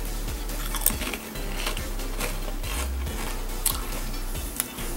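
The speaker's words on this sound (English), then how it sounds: "it doesn't have the same crunch as a Dorito because it's Lay's" Lay's Cool Ranch flavored potato chips are being crunched up close, with repeated crisp bites and chewing crackles at an uneven rhythm and no talking.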